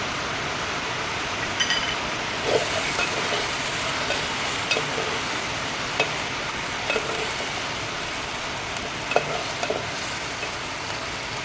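Chicken stirred and sautéed in a clay pot, a continuous sizzle of frying with occasional scraping clicks of a spoon against the pot, steady and close throughout, with no one speaking.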